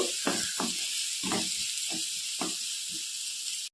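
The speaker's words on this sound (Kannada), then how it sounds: "ಇದೆಲ್ಲವನ್ನು ಚೆನ್ನಾಗಿ ಫ್ರೈ ಮಾಡಬೇಕು ಎಣ್ಣೆಯಲ್ಲಿ" Onions fry in oil with a steady bright hiss and a few short crackling bursts at irregular moments, close and fairly loud, with no voices.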